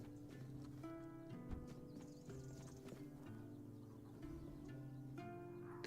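Rhythmic hooves clip-clopping from a horse in the Tainted Grail: Fall of Avalon video game, steady and fairly near under a sustained tonal music bed, with no talking.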